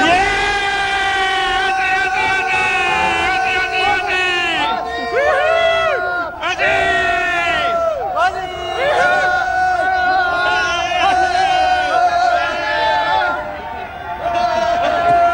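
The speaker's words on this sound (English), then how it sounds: "let's have a cheer for the Australians" A big crowd at the MCG celebrating Australia's cricket World Cup final win roars and chants in wavering, sung tones, loud and continuous, with voices swelling and dipping across the whole stretch.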